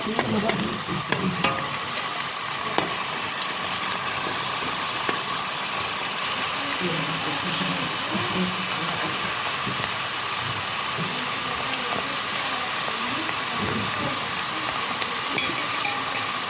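Potatoes for crispy fries fry in a pan, a loud continuous sizzle with occasional stirring scrapes, and a person speaks intermittently over the hiss.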